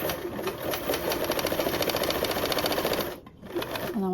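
A sewing machine stitches fold-over elastic onto mesh fabric in a fast, steady, close mechanical whir, pausing briefly near the end before starting again.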